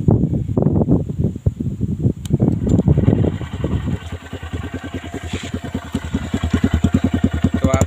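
Honda SP 125 with a modified exhaust idling with no throttle: a steady, close, rapid pulsing burble with even rhythm, loud and alone after some early rumbling.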